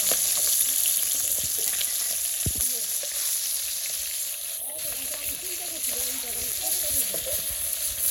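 Fish fry in a pan with a steady, dense sizzle of hot oil throughout, close and fairly loud, with a few faint clinks and bubbling pops but no talking.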